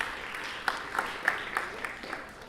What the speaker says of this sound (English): So really just give yourselves a round of applause